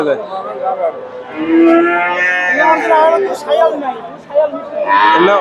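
Deep, drawn-out moos from Friesian and Sahiwal-cross heifers ring out close by at a cattle market in Bogura, one long low call followed by shorter ones, with voices chattering nearby.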